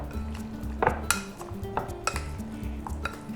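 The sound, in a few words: mixing chicken marinade with yogurt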